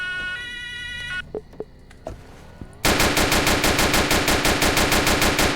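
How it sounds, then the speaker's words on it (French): Electronic game tones and a few sharp pops in Roblox give way to loud, rapid automatic gunfire in a fast, regular stream. "Coup de feu."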